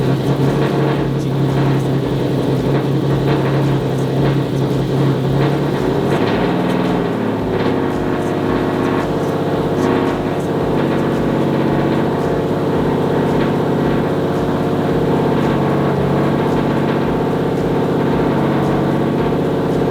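A Subaru STI's engine cranks, catches and keeps running at a loud, steady idle for the whole stretch, with a slight dip in pitch early on and no talking over it.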